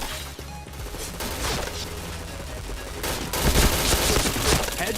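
Rapid bursts of automatic gunfire and sharp shots from a shooting video game, dense and loud with overlapping fusillades that intensify near the end.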